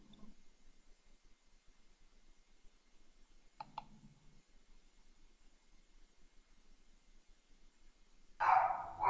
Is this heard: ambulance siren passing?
no